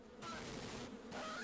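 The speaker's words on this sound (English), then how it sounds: "I got bees, nope!" A swarm of bees buzzes in the H1Z1 survival video game. It comes as a faint, hissy drone in two short surges with a brief gap between them.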